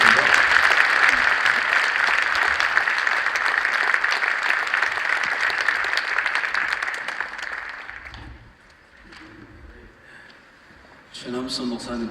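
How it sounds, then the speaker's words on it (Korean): Congregation in a church service applauding as a pastor comes forward, a dense sustained clapping that fades after about eight seconds, leaving quieter room sound and a brief voice near the end. "박수로 들어가겠습니다"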